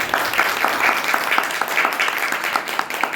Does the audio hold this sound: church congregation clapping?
yes